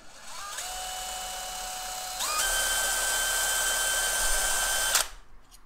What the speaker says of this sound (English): put a piece of the cable in the end of a drill, insert it into the back, make sure it's pushed all the way in